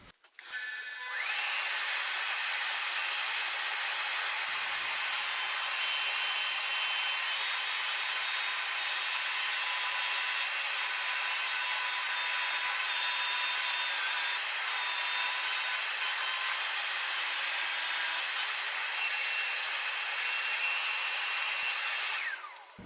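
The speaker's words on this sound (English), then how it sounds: "now we will grind the front here in half" A solid carbide boring bar front is ground in half on a grinder, giving a steady, even high-pitched grinding hiss that starts after a moment and runs continuously, close and unbroken, then stops at the end.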